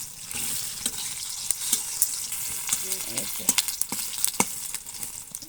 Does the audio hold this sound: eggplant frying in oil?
yes